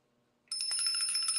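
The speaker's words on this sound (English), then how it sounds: "I'm going to ring the bell" A bicycle-style bell rings once, sudden and bright, with its metallic tone sustaining and shimmering close by in quiet surroundings.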